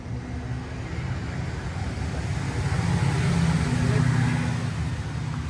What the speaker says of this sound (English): Traffic is loud in the morning